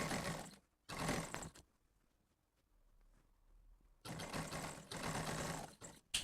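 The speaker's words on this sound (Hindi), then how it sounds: "फिर शुरू से ये सिलाई स्टार्ट कर लेंगे" A sewing machine stitches pintucks into a pair of trousers, with two short loud bursts of whirring, a quiet pause, then two longer close-up runs of rapid stitching.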